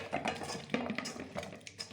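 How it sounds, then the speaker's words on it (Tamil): Metal spoon scraping and clinking against a pot while cauliflower is stirred with masala, ginger, garlic and lemon for pakoda; close, irregular clatter of utensil on cookware. "இதெல்லாம் சேர்த்து நல்லா கலந்து விட்டுக்கலாம்."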